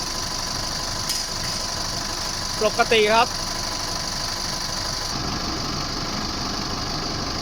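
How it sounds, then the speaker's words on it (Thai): A Chevrolet Trailblazer 2.8 pickup truck engine with 136,306 km idles steadily and close by, a constant low rumble, with a brief spoken remark partway through. "เสียงการทำงานของเครื่องยนต์"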